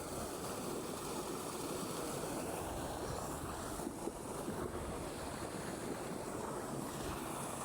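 Flood water overflowing and rushing across a road, a continuous broad roar of moving water mixed with wind buffeting the microphone, steady and fairly near with no speech.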